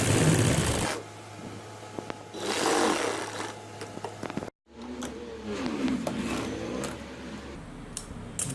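A sewing machine stitches three sides of a gents kameez front pocket in several close whirring runs, broken by brief pauses and one sudden silent gap.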